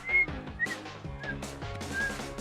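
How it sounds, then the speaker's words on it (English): A girl whistles by a fishing spot in Oklahoma, a few short, thin whistled notes spread across roughly two seconds. "Oh, and she whistled too."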